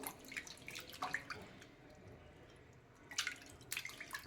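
Dried fish being rinsed in water gives faint dripping and splashing, with soft bursts of trickling water over a quiet background.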